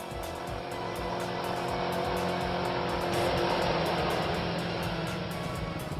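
A moped's engine hums steadily as it arrives, swelling slightly in the middle, a continuous motor sound with no speech, used as a game sound effect.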